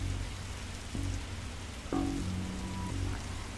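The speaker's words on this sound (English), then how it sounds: "whenever standing in this rain stops being fun for you" Steady rain falls in the Darkside Detective video game, a constant even patter with no voices, broken by a few short low game tones.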